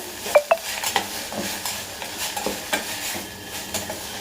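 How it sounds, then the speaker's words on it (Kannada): Sweet pumpkin pieces frying in ghee, with a soft continuous sizzle and several crisp clinks and scrapes of a spoon against the pan at an irregular pace, no voices present. "ಈಗ ನೀಟಾಗಿ ಒಂದು ತುಪ್ಪದಲ್ಲೇ ಹದವಾಗಿ ಹುರ್ಕೋಬೇಕು"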